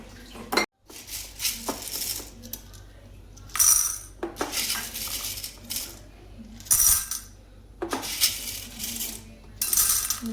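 Dry macaroni pasta is scooped and poured out of a container in a kitchen, giving bursts of hard, bright rattling and clattering separated by brief pauses, close and fairly loud, with no talk.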